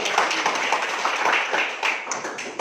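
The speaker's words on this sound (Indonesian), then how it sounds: "berikan aplaus untuk" A classroom of students applauds together, giving steady, dense, close clapping that fades slightly near the end.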